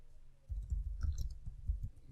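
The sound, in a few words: typing on a keyboard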